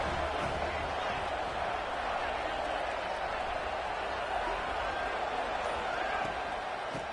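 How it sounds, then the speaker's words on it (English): Stadium crowd in a college football video game roars steadily through a third-down play, a dense continuous wall of cheering at moderate level with no individual voices standing out. "Third down and the crowd really getting into it."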